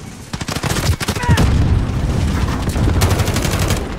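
Rapid bursts of gunfire in a 10 vs 10 video game shooter match, with a close crackling volley near the start and steady shots continuing over a busy battle din, while a player talks.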